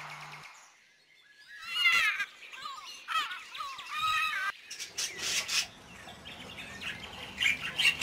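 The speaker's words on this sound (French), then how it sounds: "Les goélands sont là pour le petit déjeuner." Gulls squawking and calling at breakfast feeding time near a geriatric care home, several harsh repeated cries close by, joined by busier chirping and chatter from other birds toward the end.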